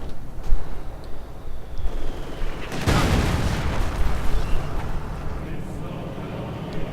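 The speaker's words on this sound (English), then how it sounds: "The support of the fragmentation bombing run" A fragmentation bombing run in the strategy game Company of Heroes lands as one heavy booming blast followed by a long, dense rumble of overlapping explosions under a continuous battlefield din.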